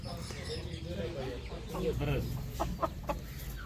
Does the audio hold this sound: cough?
no